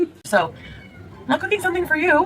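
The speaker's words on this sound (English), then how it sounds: "That's my cat." A pet cat meows loudly and close by in a kitchen where chicken is being cooked, calling repeatedly while someone talks over it.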